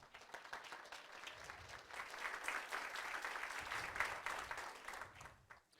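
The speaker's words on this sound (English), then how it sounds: "let's give our co-sponsors a round of applause" A distant, fairly faint round of applause from an audience at a community program on segregation and Black Lives Matter, rising to a steady clatter of clapping before fading at the close.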